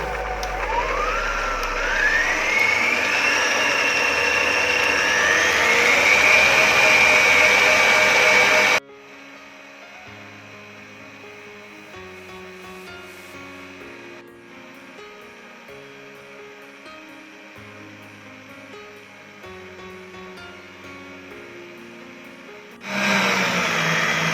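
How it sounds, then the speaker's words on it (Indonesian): An electric mixer whips pandan cake batter at full speed, a loud steady whine that climbs in pitch for several seconds. It then cuts to a quieter, uneven mechanical hum before surging loud again at the end. "Ini di mixer lebih kurang 1 menit supaya mengembang ya. Kecepatan full."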